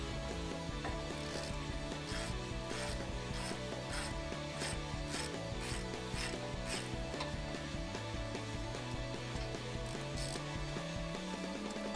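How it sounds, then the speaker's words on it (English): A ratchet with a 17 mm socket loosens brake caliper bolts on a 2005-2022 Toyota Tacoma, giving rapid, steady clicking of the pawl that sounds close and loud through the whole stretch, with no talking. "So we'll get our 17 millimeter socket"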